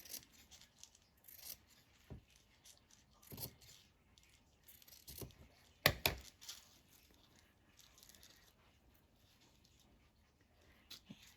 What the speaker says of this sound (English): let's just cut some of this off and make some fringes